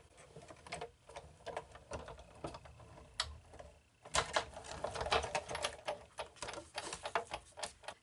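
A Big Shot die-cutting machine cranks a flower card through its rollers, giving a run of clicking, ratcheting mechanical noises that grow louder and busier partway through, close and alone.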